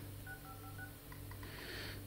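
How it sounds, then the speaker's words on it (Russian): A Sony Xperia ZR C5502 smartphone plays its notification sound, a short run of soft electronic tones in a quiet room, then a few brighter chiming blips and a brief airy swish. "уведомление"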